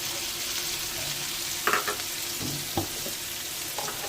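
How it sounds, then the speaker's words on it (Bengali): Soft frying sizzle as cumin, chili and turmeric powders are added to frying potatoes, with a few brief scraping stirs in the pan, fairly quiet and close. "আলুটা ভাজা হয়ে গেছে, এবার মশলাটা দেবো"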